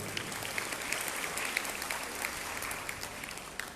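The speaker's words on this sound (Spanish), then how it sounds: "un aplauso para ella" An audience at an education conference claps steadily and faintly, a continuous patter of many hands heard from a distance with no voices over it.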